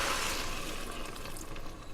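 Vegetable broth paste going into a pot with hot water, a steady watery hiss and gentle bubbling that fades slightly, close and alone without talk.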